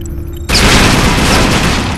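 Sudden, loud, sustained burst of rapid automatic gunfire in multiplayer Splinter Cell Double Agent, starting abruptly after a quiet moment and continuing as dense, continuous shooting.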